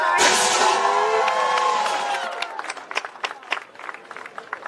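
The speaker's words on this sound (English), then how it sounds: "I need a better round of applause than that for Reverend Arthur." Rally crowd at a student debt cancellation event bursts into loud applause and cheering, dense at first, then thinning into scattered claps that fade over several seconds.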